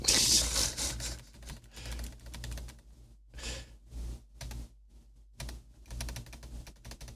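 Numbers typed on a computer keyboard in quick bursts of clicky keystrokes, close and fairly quiet, with short pauses between runs of taps and no talking.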